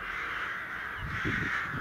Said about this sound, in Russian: Вон вороны какие налетели.